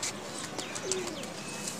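Soft coos of high-flyer pigeons with a few brief chirps, close by, over a steady low background hum and no voices.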